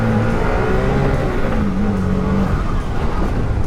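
Can-Am Maverick R side-by-side engine droning under load while driving, a loud, steady rumbling growl with gear shifts heard from onboard, no talk.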